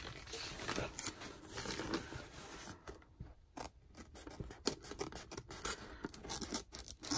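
Scissors snip and rasp through fabric for a Rae Dunn-style throw pillow, a run of close, irregular cutting strokes with soft rubbing between them and no talking.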